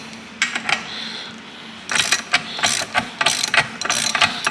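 A part threads itself in during a front suspension rebuild with QA1 shock upgrade, giving loud, rapid metallic ratcheting bursts, a short run first and then dense clicking runs close by.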